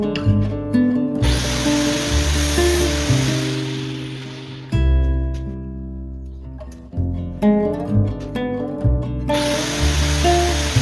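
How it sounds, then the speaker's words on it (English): A small 4-inch grinder with a grinding wheel trims piston rings for a Ford OHC Pinto engine. It gives a loud whining hum in bursts, and the harsh rasp of the wheel on the metal comes and goes between pauses. "trim them with the grinding wheel on the little 4-inch grinder"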